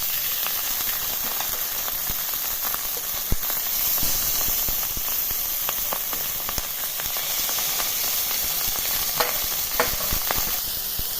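Salmon fries in olive oil in a pan with a steady, close, loud sizzle and hiss. Scattered pops and crackles run through it, with no voices.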